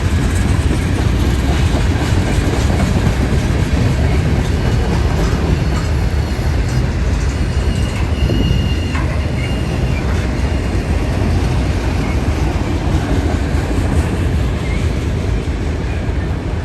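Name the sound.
freight train with boxcars passing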